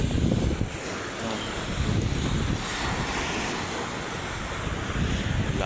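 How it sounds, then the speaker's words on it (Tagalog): Strong waves surge and crash continuously along the Manila Bay shoreline, a loud, dense roar of surf with heavy wind buffeting the microphone throughout. "Ang lakas ng alon."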